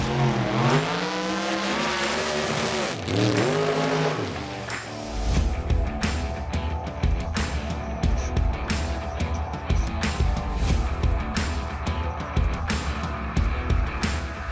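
A drag racing car runs a single pass down the strip at ABQ Drag Way during a Labor Day Bash event, a loud engine surging and rising in pitch, then a steady roaring drone with crackling bursts that carries on throughout.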